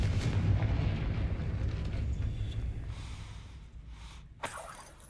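A Confringo spell blast in the Hogwarts video game: a loud, rushing burst that holds for several seconds, then fades, with a sharp crack near the end.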